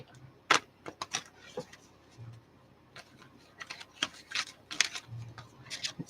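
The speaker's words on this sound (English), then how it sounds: "Let's give a good shuffle." Tarot cards being shuffled during a love reading, a quiet run of irregular riffling and slapping bursts, some sharp and close, with soft gaps between them and no speech.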